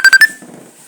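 A mobile phone rings with three quick, loud electronic chirps in a row, followed by a faint rustle, with no talk.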